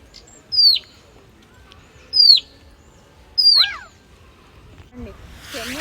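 Three clear, high whistled bird calls in Eldoret, Kenya, each a quick downward-sliding note, spaced a second or so apart against a quiet outdoor background.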